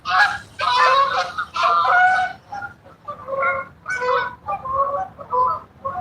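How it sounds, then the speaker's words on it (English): A flock of geese passes over a lake in winter, honking again and again in loud, close, overlapping calls that come in quick clusters. "Here comes a whole bunch of geese through."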